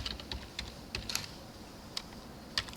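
Quiet, irregular clicks of keys being typed on a computer keyboard, a handful of light taps spaced unevenly with brief pauses between them.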